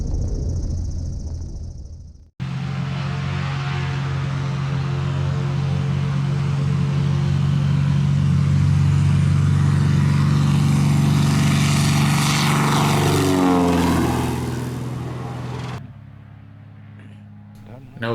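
Propeller engine of a nose wheel airplane on a grass strip, a steady loud drone that holds for seconds, then swells and shifts pitch before cutting off abruptly.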